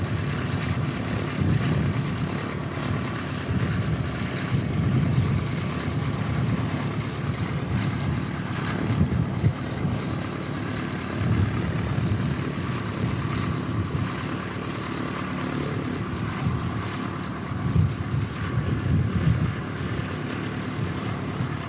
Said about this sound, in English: Looks like the next arrival will be Jetstar 135 coming in from Cairns